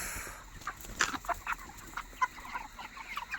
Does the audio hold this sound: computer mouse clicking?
no